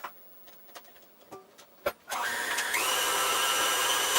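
An electric hand mixer beating chocolate chip cookie dough in a bowl, starting after a few scraping knocks and settling into a loud, steady close-up whir whose pitch rises slightly as it speeds up.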